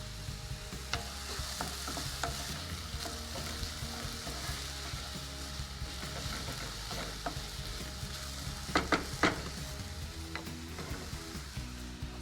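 Chopped onions with salt soften in a frying pan with a steady, moderate sizzle, punctuated by occasional scraping clicks of stirring, close by and without talk.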